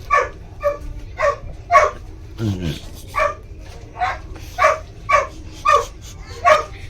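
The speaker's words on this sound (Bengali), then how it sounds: "একটা ডগি নিয়ে উঠেছে মনে হয় ভেউ ভেউ ভেউ ভেউ করেই যাচ্ছে" A dog barks over and over at a steady pace on a train, a dozen or so sharp barks close by over a low rumbling background.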